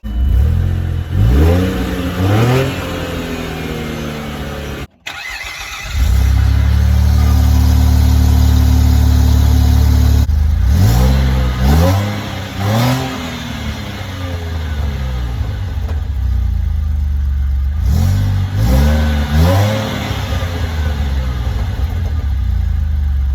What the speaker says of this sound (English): Start up with the new exhaust.